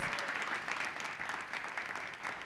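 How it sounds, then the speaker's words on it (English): An audience at an indoor talk event claps steadily, a dense, even patter of many hands filling the room without pause. "Yes, that deserves a round of applause."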